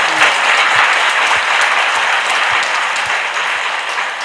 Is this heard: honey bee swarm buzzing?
no